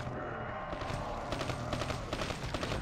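Rapid gunfire in Call of Duty Black Ops III on Nightmare Mode, a dense clattering stream of shots over noisy game ambience, loud and continuous for a few seconds.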